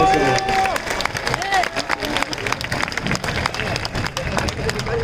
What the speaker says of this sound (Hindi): तो हम क्या तालियों से स्वागत नहीं करेंगे?